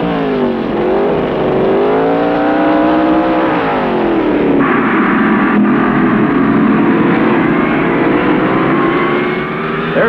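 Pro stock drag race cars scream down the strip, engines rising and dropping in pitch as they shift through the gears, loud and sustained with a dense roaring wash.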